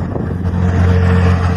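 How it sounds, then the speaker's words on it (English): Wind blowing outdoors at an auction yard of equipment, a loud, constant low rumble and buffeting against the microphone with no voices. "I apologize for the wind. It is windy out here today."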